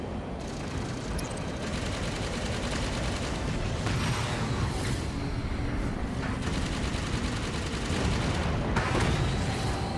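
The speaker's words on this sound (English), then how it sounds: "Keep firing on those coolant pipes." Sustained rapid gunfire aimed at coolant pipes near a reactor in Halo 5, a dense continuous barrage of shots and booms running loud throughout with no pauses.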